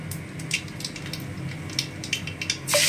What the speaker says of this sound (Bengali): চিমনি চালিয়েছি, চিমনির আওয়াজটা আসছে